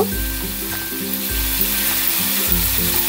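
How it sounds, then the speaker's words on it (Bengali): Prawns lightly frying in a pan, a strong continuous sizzle close up with the low rumble of the pan and stove running beneath. "চিংড়ি মাছটা দেওয়ার পর আমি ভেজে নেবো, খুব হালকা করে ভাজবো চিংড়িটা।"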